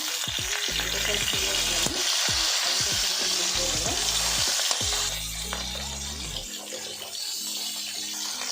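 Fish frying in oil in a pan for Odia macha besara, a steady loud sizzle running throughout with stirring and clatter, a brief lull near the end.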